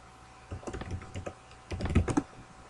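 Computer keyboard keys tapped in two short bursts of typing, close and fairly quiet, with a brief pause between them and no talking.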